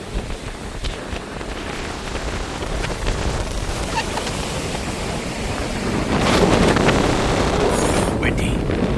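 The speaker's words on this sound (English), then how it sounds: "Windy." Gusty wind buffets the microphone on a pier at Myrtle Beach over a background of surf, growing stronger and rougher toward the end.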